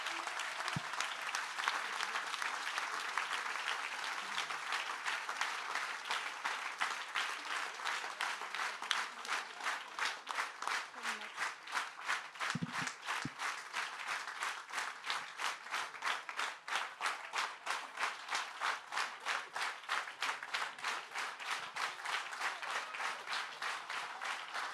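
Sustained applause from a crowd at a political rally, steady and dense, shifting into rhythmic clapping in unison that continues throughout.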